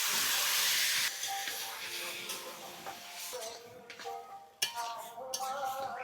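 Water splashed onto hot boiled spice paste in a pan, a loud burst of hissing steam that quickly fades into gentler sizzling, with metal clinks of a utensil against the pan.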